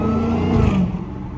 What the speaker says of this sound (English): the exhaust be echoing off these buildings so hard